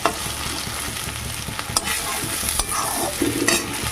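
Onion and eggplant sizzle steadily as they fry, with utensil scraping and stirring noises throughout, close up and unbroken by speech.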